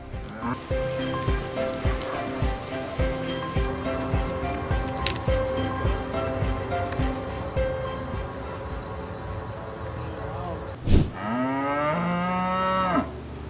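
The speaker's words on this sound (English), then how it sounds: "The Belgian Blue is a genetic powerhouse boasting an extraordinary double-muscled physique that makes it one of the most sought-after beef cattle in the world." Belgian Blue cattle, a double-muscled beef breed, low repeatedly in long, drawn-out moos, ending in one sustained call close by.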